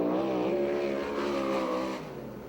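A USAC/CRA sprint car at full throttle on a qualifying lap at Perris racetrack, loud and close, its steady high engine note dropping away near the end as it passes.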